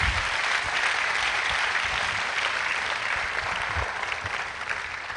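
Audience members at a forum applaud three speakers, giving a continuous, full round of clapping that stays strong and eases off slightly toward the end.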